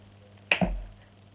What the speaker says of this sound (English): Why do I keep clapping?